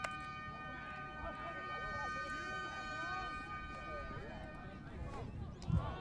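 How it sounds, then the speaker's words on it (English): A steady electronic siren tone sounds through a youth nationals basketball match, holding unbroken under continuous commentary and crowd noise. "The siren sounded, so that's time cap."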